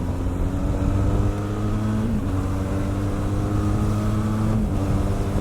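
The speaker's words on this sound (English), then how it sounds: "The engine sounds nice." A 2020 Benelli TRK 502X motorcycle engine runs steadily while riding, a loud close drone with small shifts in pitch, and wind rush over the top.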